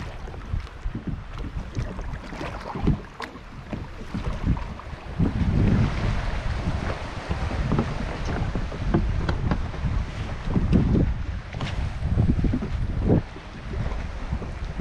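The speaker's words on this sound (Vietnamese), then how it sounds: "Gió thổi mình trôi á." Wind blows steadily across a small boat drifting at sea while squid fishing near a Nha Trang resort, a continuous rushing roar with gusts buffeting the microphone and water sloshing against the hull, with no talking.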